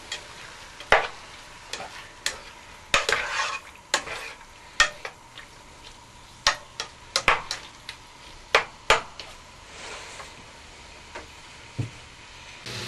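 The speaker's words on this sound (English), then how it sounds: "we're going to add about 4 tablespoons of oil to our diced up pork, and we're going to brown it on all sides" Diced pork browning in about four tablespoons of oil on the stove, with irregular knocks and scrapes of stirring over a low frying sizzle, near and without talk.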